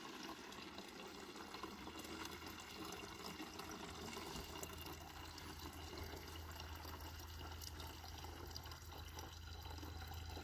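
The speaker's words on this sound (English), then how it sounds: "You can see the water try to speed up and then it slows down." Water from a DIY 24V solar well pump pours steadily into a pond, a constant broadband splashing rush that stays fairly even and faint throughout, with no talking.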